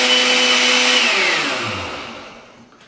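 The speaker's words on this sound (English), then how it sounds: "Now we're just going to blend it" Blender running on New Mexico red chile sauce, a loud steady whir whose pitch sinks and fades as the motor spins down over a few seconds.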